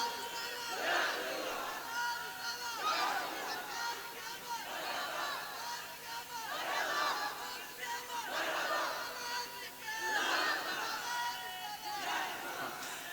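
A seated crowd at a naat recital for poet Asad Iqbal Kalkattavi rises and chants slogans in unison, loud rhythmic bursts of massed voices repeating every couple of seconds with a hum of babble between.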